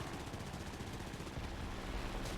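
Japanese 7.7 mm machine guns firing from an A6M2-N floatplane at armoured cars in War Thunder, a continuous rapid rattling burst under engine drone, loud and steady, no talk.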